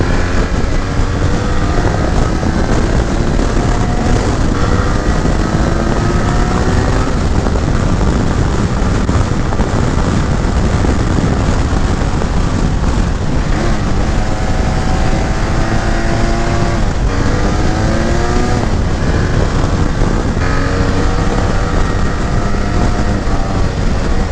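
A 2018 BMW F 800 GS motorcycle riding on back roads: loud, continuous engine drone with rising and falling pitch as the rider shifts through gears, mixed with heavy wind rush against the microphone.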